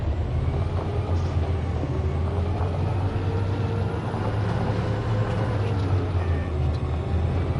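A big truck rumbles along in the video game Detroit: Become Human, a steady low engine drone with road noise that holds evenly throughout, loud and continuous with no distinct events.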